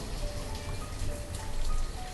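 Rain in the Banished video game, a steady, even wash of falling rain with a low underlying rumble and faint tonal hints of background music, heard alone without talk.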